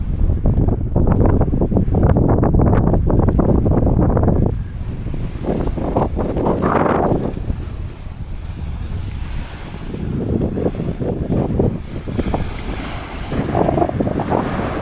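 Strong wind rushes across a microphone by the sea at San Antonio, Zambales, heavy buffeting roar over surf and choppy waves, loud and continuous, easing a little midway before gusting up again, no talking.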